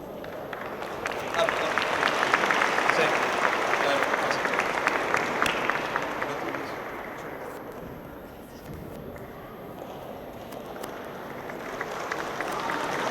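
An audience at a community leaders' meeting applauds, producing a dense wash of clapping that swells early, then fades and picks up again, with talk running underneath.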